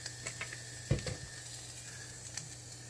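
Ground beef frying in olive oil in a pan on medium-high heat, a faint steady sizzle with a few louder scraping clicks as the meat is broken apart, no talk.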